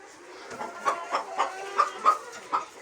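Chickens clucking on a small farm where eggs are collected, a steady run of six or seven rhythmic clucks close by, moderately loud over a soft background hum, with no talking.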